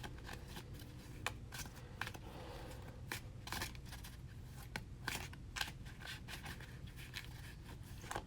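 Tarot cards are shuffled by hand in steady, close riffling and scraping bursts, with soft crisp slaps repeating over a constant low background hum and no talk.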